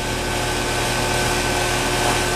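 An HVAC compressor runs with a constant, even mechanical hum and drone, close and steady throughout with no pauses or changes.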